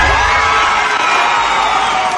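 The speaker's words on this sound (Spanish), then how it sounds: "fue recibido entre aplausos por cientos de empleados de la compañía" Hundreds of company employees at a public utilities headquarters in Medellín cheer and applaud together, a dense, steady crowd roar with whoops and shouts filling the whole stretch.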